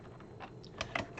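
Quick, light keystrokes on a computer keyboard, a handful of soft irregular taps close by in a quiet room.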